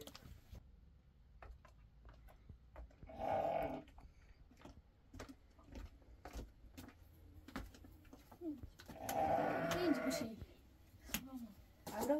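Sheep in a simple Afghan village bleat twice, with a short call and then a longer, wavering one a few seconds later, amid faint clicks, knocks and quiet background voices.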